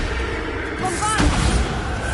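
Bombarda spell explosion in the video game Hogwarts Legacy: a single deep boom with a thudding impact about midway, over a dense background of game noise.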